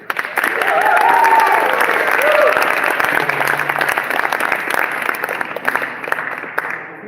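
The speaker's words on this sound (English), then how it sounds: "Can we give Salong Chun a big round of applause for coming out and being our host for this evening?" An audience at an armory event applauds the evening's host with steady, full clapping and a few whoops, tapering slightly near the end as voices murmur underneath.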